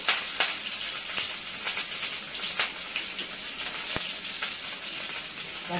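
Mustard seeds and chilli fry in hot coconut oil, giving a steady dense sizzle with frequent sharp crackles and pops scattered throughout, close and fairly loud, with no voices.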